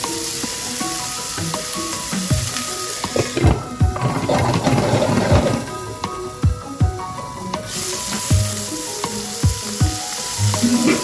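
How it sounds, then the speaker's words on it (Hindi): Boneless chicken sizzles and fries in a pan with ginger and garlic, a loud steady crackle broken by occasional scrapes and stirring knocks, with no speech. "इसके अंदर हम डाल देंगे बोनलेस चिकन, इसको थोड़ा सा सोते करेंगे"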